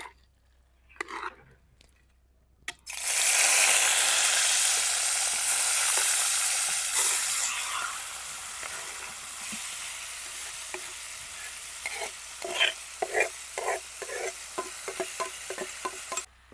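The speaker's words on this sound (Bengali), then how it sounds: "মাংসগুলো এবার তেলের মধ্যে দিয়ে দিচ্ছি।" Chicken pieces drop into hot oil in a village kitchen wok, bursting into a loud, steady sizzle that gradually settles into crackling with scattered pops and spits.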